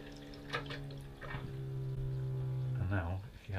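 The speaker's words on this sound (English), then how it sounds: "spring water coming out the tap." Cold spring water running from a tap in an off-grid bathroom, a close, steady splashing flow accompanied by a low pump-like hum.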